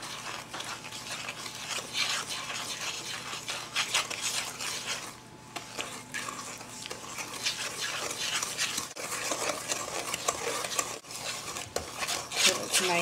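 Brown sugar, butter and egg being mixed in a bowl for butter tart filling: continuous close scraping and clinking of a utensil against the bowl, fairly loud and busy, with no talking.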